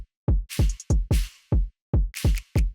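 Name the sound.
drill drum loop with kick, hi-hat, snap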